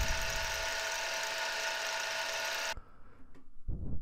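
A milling machine cuts a metal block, a dense, steady grinding whine with a sharp metallic ring that holds for nearly three seconds, then stops abruptly and leaves faint workshop clatter.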